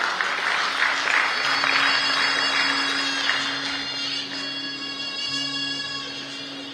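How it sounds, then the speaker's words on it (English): Applause from a convention audience in Goa, a freight forwarders' federation gathering: sustained clapping filling the hall at moderate level while a steady electronic tone hums underneath, slowly thinning toward the end. "A round of applause, please, for Mr. Shankar Shinde."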